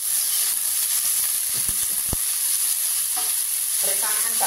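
Winged beans and small bird's eye chilies sizzle steadily in a hot pan during a vegetable stir-fry, with a few sharp scrapes of the spatula and clinks stirring through them, close and continuous.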